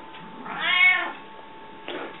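A cat lets out one drawn-out, rising and falling meow up close, followed by a short, softer second call, with nothing else in the background.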